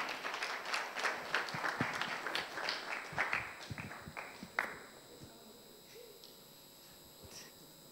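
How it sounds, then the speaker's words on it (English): An audience at a law conference award presentation applauds in a burst of clapping that lasts several seconds before dying away. It sounds fairly faint and distant, like a hall. "A round of applause, please."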